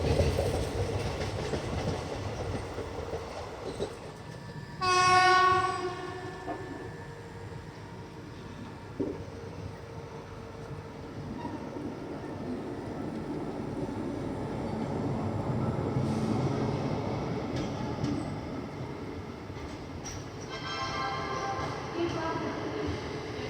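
The Nandigram Express passenger train, running from Balharshah to CSMT Mumbai, rolls with continuous rail rumble and clatter, and its horn blasts twice: once loudly near the start and again later, longer and further off, with talk underneath.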